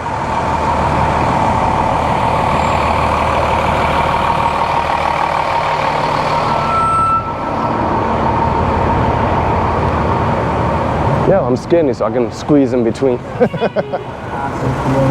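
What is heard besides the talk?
city street traffic jam noise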